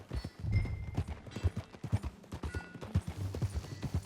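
Steady hoofbeats of a video game horse clip-clop at a walking pace, close and rhythmic, with a soft background hum.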